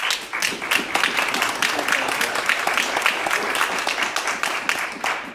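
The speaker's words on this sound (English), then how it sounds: "So I just want to give them all a big round of applause." A community meeting audience bursts into sustained applause, dense steady clapping that fills the room for several seconds, with faint voices mixed in.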